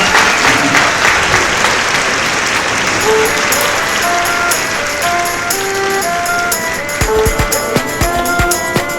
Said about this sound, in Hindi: ये जरा जोर से ताली बजाएं